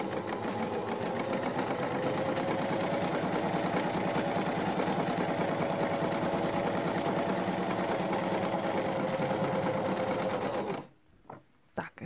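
A sewing machine runs steadily at high speed, stitching and finishing a fabric seam with no backstitching, a close, continuous whirring drone that stops abruptly near the end and leaves a few soft clicks.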